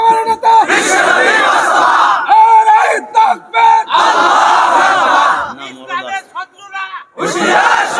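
A large crowd at a Bangla waz religious gathering chants a slogan in loud, rhythmic bursts of massed voices, each followed by a brief gap, with a leader's voice cueing between the call-and-response phrases.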